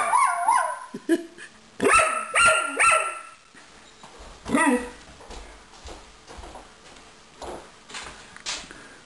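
A dog barks repeatedly up close, a quick cluster of loud barks followed by scattered yips and whimpers, with some background rustling.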